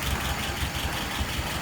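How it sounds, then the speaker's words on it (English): A WO 636S engine idling at around 640 rpm after carburetor float adjustment, a steady low rumble with an even pulsing beat, close and continuous with no talking. "Currently idling at about"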